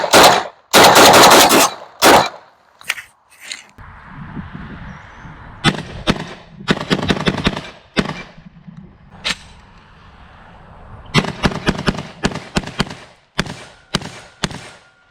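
Shotgun blasts fired with 2 3/4 inch birdshot shells, loud and close, come in rapid clusters of sharp bangs separated by short pauses, with faint handling noise between volleys.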